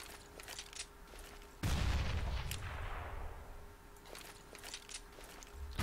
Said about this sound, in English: just after I release the grenade, it will make a noise